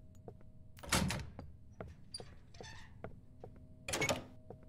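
A door opens in the Roblox horror game Doors, a soft thunk and sliding creak followed later by a second muffled bump, heard faintly over quiet clicks in an otherwise still room.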